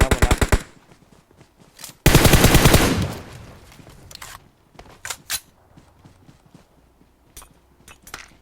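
Rapid bursts of automatic gunfire in the video game PUBG crackle in short volleys, with one long sustained blast, followed by scattered single shots and clicks.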